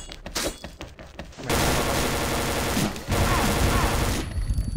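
Rapid automatic gunfire in the online shooter XSHOT, a dense continuous burst of shots packed tightly together, loud and close, after a few separate shots at the start.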